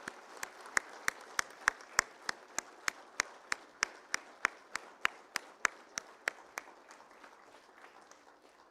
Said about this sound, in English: Let's clap very loudly for this award.